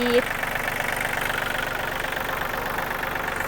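A three-cylinder Yanmar EF393T engine in a 39 hp tractor idles with a steady, even rumble, loud and close, after a brief higher tone at the start.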